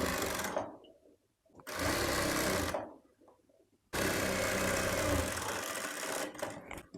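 A sewing machine stitches a straight seam on a baby's yoke frill frock in three loud, continuous bursts with short quiet pauses between them, close by and with no voices.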